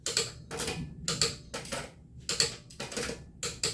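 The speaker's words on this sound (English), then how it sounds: "I always torque these things down with the torque wrench." Torque wrench on a Chevy Malibu's wheel lug nuts, giving a run of sharp, close clicks in uneven bursts, about eight distinct clicks in quick succession with short pauses between.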